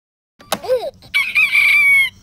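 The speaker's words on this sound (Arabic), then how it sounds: "يصيح ديك." A rooster crows once, loud and close, with a rising first note and then a long sustained call, out of near silence.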